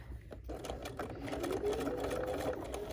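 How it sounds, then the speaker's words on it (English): A sewing machine back stitches along quilt binding, a close, steady rapid whirring and ticking of the needle running for about three seconds, with no talking. "I like to back stitch one stitch"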